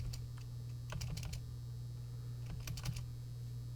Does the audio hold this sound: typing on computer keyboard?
yes